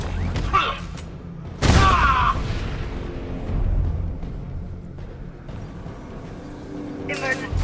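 Game explosions and detonation blasts in Batman: Arkham Knight during a chemical mixing chamber emergency, with sharp bursts near 0.6, 1.7 and 7.3 seconds over a low rumbling soundtrack, while in-game voices talk throughout.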